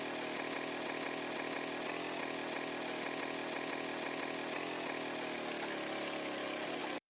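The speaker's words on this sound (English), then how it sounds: "Yep, you guessed it right, a chainsaw." A chainsaw's loud, continuous buzzing roar runs steady and unbroken within Doom-style metal music, dense and up front throughout.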